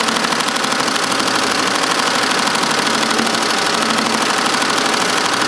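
An embroidery machine stitches a logo onto a canvas tote bag with a fast, steady, loud mechanical chatter that runs continuously and evenly throughout, with no voices.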